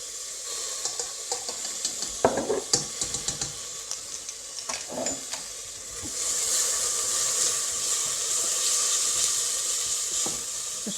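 Garlic, ginger and mustard stirred around a frying pan: irregular scraping clicks of a utensil early on, then a steady hissing sizzle takes over.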